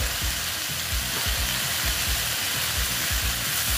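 Water spinach salted and frying in a pan, a loud continuous close sizzle with soft repeated low thumps from stirring, no talking.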